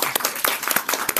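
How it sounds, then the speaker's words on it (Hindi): An audience at a studio festival event in Noida claps to welcome the chief guest, a brief burst of scattered, uneven hand claps close by, with no talk over it. "जो हमारे चीफ गेस्ट हैं श्री गौतम लाहिरी जी, इनका स्वागत कीजिए तालियां बजाकर।"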